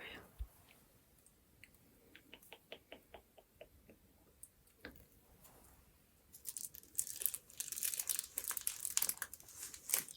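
Thin tissue paper is brushed with glue for papier-mâché: quiet scattered clicks and light crinkles at first, then a dense, close burst of crisp crinkling over the last few seconds, with soft whispering at times.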